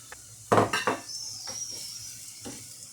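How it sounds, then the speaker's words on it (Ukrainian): Chopped onion frying in sunflower oil in a pan, with a few sharp utensil clatters and stirring knocks and a faint sizzle underneath, close by with no talking. "Зараз трошки трошки її підсмажимо."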